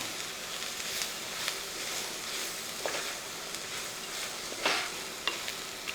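Chopped cabbage frying with masala in a pan is stirred, giving a steady close sizzle broken by occasional scraping clicks of the spoon, with no talking.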